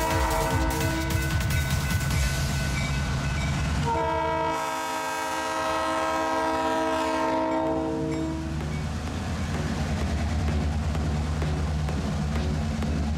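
Two RBMN GP38 locomotives rumble past pulling a train, with a long horn blast in the middle and the steady clatter of rail cars rolling by.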